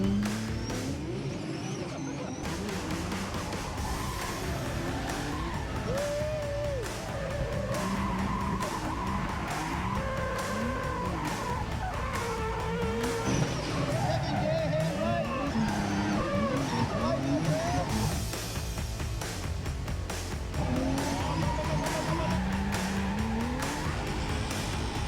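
A drift car at Summernats, the Australian car festival, slides through sustained tire squeal with engine revving. The noise is loud and continuous, with howling squeals rising and falling throughout, and faint crowd or commentary underneath.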